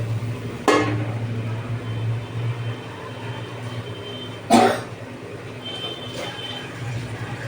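A metal plate set down as a lid over a pan of doi tangra fish curry gives a sharp clink near the start and a louder clatter midway, both over a steady cooking hum.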